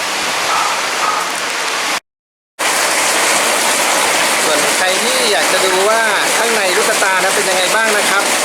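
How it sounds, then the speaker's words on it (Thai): Steady heavy rain pours down as a dense, even hiss, briefly cut off before resuming, with someone talking over it in Thai. "ฝนตกนะครับ"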